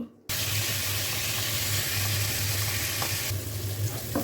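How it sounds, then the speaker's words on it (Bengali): Fish seasoned with turmeric, salt and chili fries in hot oil, a loud, dense, steady sizzle that starts suddenly after a brief quiet moment and continues without pause. "মাছটাকে জাস্ট একটু হলুদ লবণ মরিচ দিয়ে ভেজে নিব"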